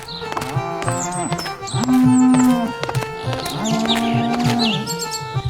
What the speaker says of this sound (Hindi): जहां सारे भैंसे बंधे थे।